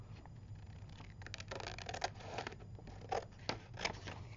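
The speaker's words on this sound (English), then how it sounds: "Using these scissors." Crisp snipping and rustling scrapes of scissors cutting through stiff white cardstock, irregular short cuts close up, over a low steady hum.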